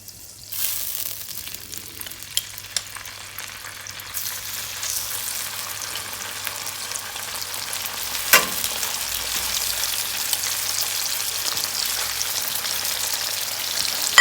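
Escalopes fry in a hot pan with a steady, broadband sizzle that builds slowly over the clip and holds close and loud, broken by a brief sharper crackle partway through, with no talking.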